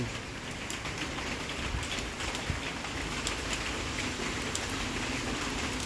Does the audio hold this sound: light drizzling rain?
yes